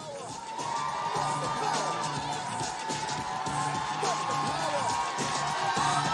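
A crowd cheers, whoops and claps continuously at a panel event as the guests walk up, a steady, loud wash of voices and applause from start to finish.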